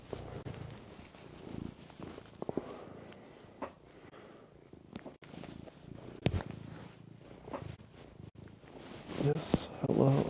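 A cat purrs close by with a soft, continuous rhythmic rumble, broken by brief clicks and rustles, while someone speaks quietly over it.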